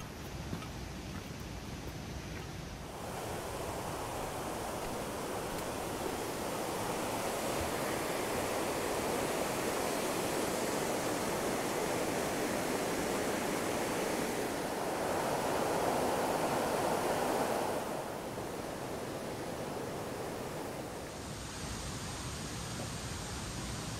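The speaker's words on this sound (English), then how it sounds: "Sounds like a bit of a waterfall down there." A waterfall in a Glen Coe valley roars as a steady broadband rush, swelling louder in the middle and easing near the end, with no voices.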